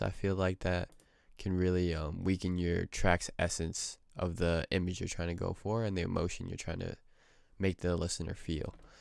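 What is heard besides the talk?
No distinct noise like a dog, phone or traffic.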